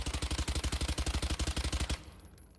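A fully automatic gun firing in the Valorant game, a rapid even burst of roughly twenty shots over two seconds that cuts off abruptly into quiet.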